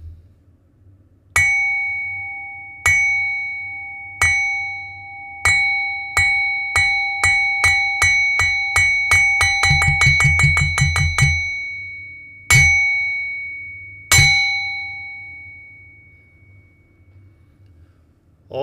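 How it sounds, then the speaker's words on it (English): A meditation bell rings out clearly for a Buddhist service's dedication of merit, with single strikes slowly spaced and then a quickening roll of rapid strikes, followed by two final resonant strokes that ring out and decay. "If I can try to do the bell properly."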